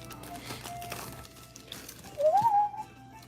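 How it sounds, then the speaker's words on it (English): A person whistles a short rising and falling note near the end, fairly close, after quiet room noise and faint background sounds. "Trying to whistle over here."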